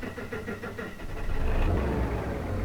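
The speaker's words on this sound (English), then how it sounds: "Let's start it up. Listen to this." A John Deere 8970 tractor engine in Farming Simulator 17 cranking briefly and catching, settling into a loud, deep, rumbling idle.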